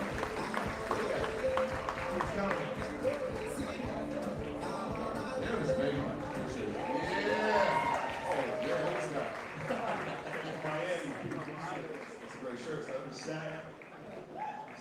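A live audience claps and cheers for a surprise guest arriving on stage, steady applause with whoops rising and falling over about fifteen seconds, with voices mixed in.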